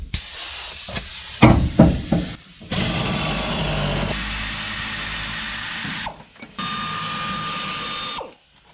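Ratchet and power-tool work loosening bolts to pull a seat out of a truck, a few quick clicking bursts followed by long sustained whirring runs broken by short pauses, close and fairly loud.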